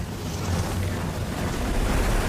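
Ocean waves surge and wash across a ship's deck in a continuous loud roar of rushing water and wind, with no voices.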